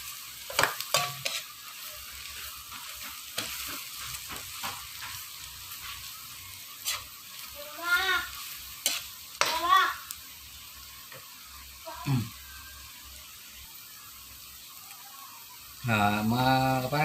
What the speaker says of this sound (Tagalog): Tulad ng dati, pakakaluto po natin yung bawang.